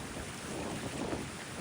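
A strong wind blows by the sea in Helsinki. It makes a loud, steady roar of wind buffeting the microphone, with a rumble of surf underneath and no voices.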